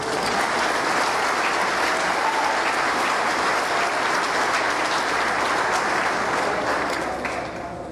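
Sustained, loud applause from an audience at a solemn legislative session for a swearing-in ceremony, a dense continuous clapping that holds steady for several seconds before tapering slightly at the end.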